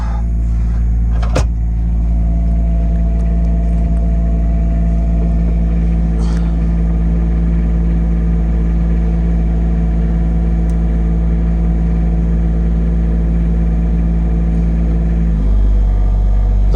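An Onan diesel generator in a Country Coach motorhome drones loud and steady, with a brief knock early on, then its tone drops as it settles to idle near the end.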